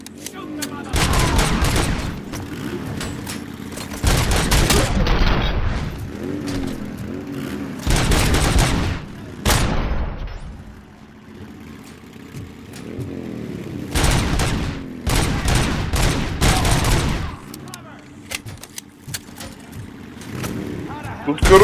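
Gunfire from the video game Robocop: Rogue City erupts in several loud, dense bursts separated by quieter gaps, with a voice talking in between.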